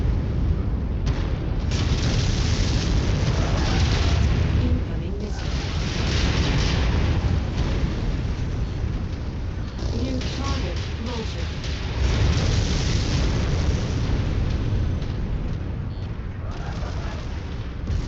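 Missile explosions and heavy weapon fire in MechWarrior 5 combat at a turret defence, a continuous loud barrage of deep booms and blasts with no letup, and faint voices now and then beneath the din.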